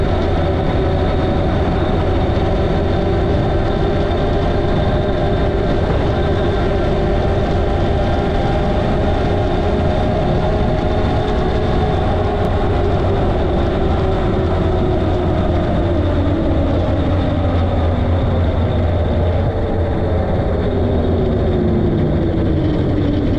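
A homemade electric buggy runs along a track at full throttle, a continuous loud motor whine and rumble with shifting pitch over twenty-odd seconds, close by with no talking.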